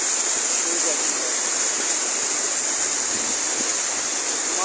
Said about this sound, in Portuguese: Mais de 100 metros de queda de água, ó.